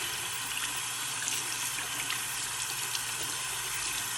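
Steady running water rinsing dye out of wet fabric, a continuous tap-like hiss and splash with no break, close and fairly loud, no voices.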